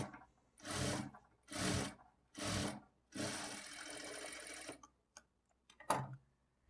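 Sewing machine stitching blouse cloth in short bursts, three quick runs then a longer steady stitch, followed by small clicks and a brief final whir, close and fairly quiet.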